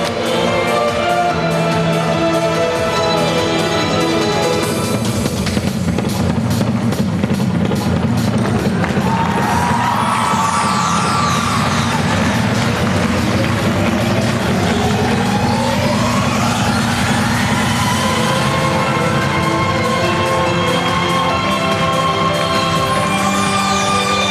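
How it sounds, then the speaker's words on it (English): Arena crowd at a 2007 figure skating short program clapping together in steady rhythm under loud skating music, a dense wash of hands running through most of the stretch. "Clapping in time, that's always a good sign."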